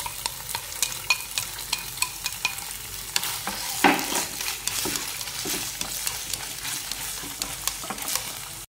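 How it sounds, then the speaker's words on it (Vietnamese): Shrimp is tossed in a pan with fried shallots, a steady sizzle under a run of quick, regular spatula scrapes and taps against the pan, close and fairly loud. "mình cho tôm vô. Mình đảo cho nó thơm thôi"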